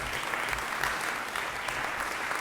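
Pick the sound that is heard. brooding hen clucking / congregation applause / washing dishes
congregation applause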